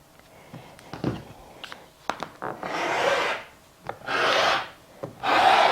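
Quilt fabric being straightened and cut into strips, with soft handling noises followed by three longer close scraping swipes of a cutter across the cloth.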